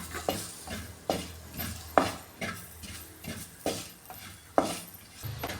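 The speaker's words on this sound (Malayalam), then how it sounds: "ഇനി ഇതിലേക്ക് ഈ ടൊമാറ്റോ ചേർത്ത് കൊടുക്കാമേ." Tomato goes into a hot spiced pan for a Kerala fish curry, bringing a run of sharp stirring scrapes and clacks of a utensil against the pan that recur about once a second over a soft sizzle.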